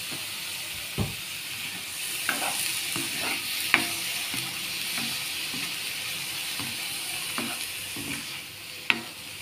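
Prawns fry in oil in a pan on a gas stove, a steady hissing sizzle with occasional sharp pops and spits rising above it.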